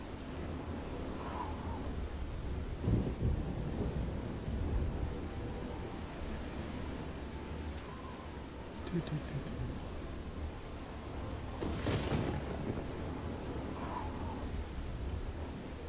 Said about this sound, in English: Quite a stormy day.